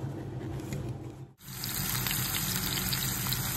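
Beetroot fries in a pan with garlic and onion, a soft, steady sizzle that dips briefly, then returns louder and denser, heard quietly.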